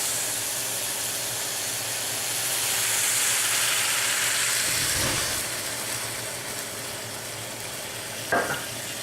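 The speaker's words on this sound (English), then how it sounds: "we're going to flame it with the brandy" Brandy is flambéed in a pan over cherries with brown sugar and vanilla, giving a steady sizzling hiss that swells midway and fades, with two brief bursts of stirring or clatter.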